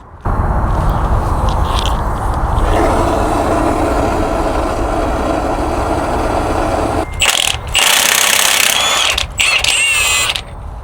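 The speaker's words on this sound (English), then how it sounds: "We are going to try and get this bolt off the crank" An impact wrench hammers loudly and continuously at the crankshaft bolt of a truck engine, with brief pauses near the end between harsh, close bursts.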